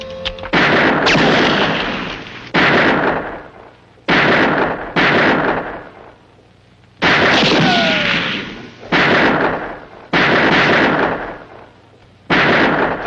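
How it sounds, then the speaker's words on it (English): Heavy gunfire from a colorized western movie, with a series of loud booming shots and long ringing decays, about seven blasts spaced a second or two apart, with one ricochet-like whine. "That's shooting at the Barrelhead."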